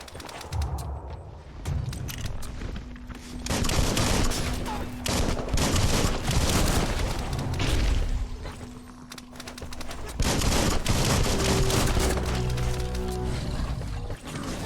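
Dense bursts of automatic gunfire and rapid shots from the video game Biomutant, loud and sustained across the whole stretch, with brief lulls and a steady hum of game sound beneath.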